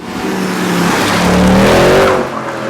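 Close by, a Mercedes C63 AMG Edition 507 runs loud, its engine revving and rising in pitch with a hint of tire squeal, then easing off at the end.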